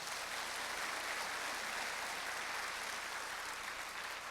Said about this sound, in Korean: 여러분 큰 박수 부탁합니다